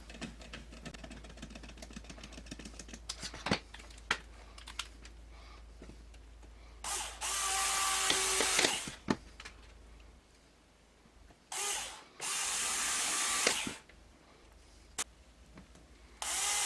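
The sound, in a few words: driving long screws into a quad frame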